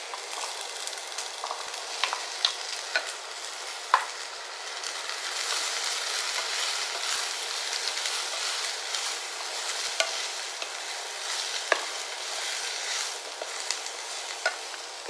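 Chopped papaya sizzles and fries in a pan as it is stirred, a continuous crackling hiss with intermittent sharp scraping clicks from the spoon, close up, with no talking.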